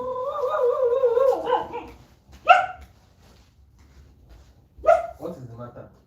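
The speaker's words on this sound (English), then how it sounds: "Let me chase the dog away." A dog barks in short, sharp bursts, spaced a couple of seconds apart, following a stretch of voice at the start, fairly close and moderately loud.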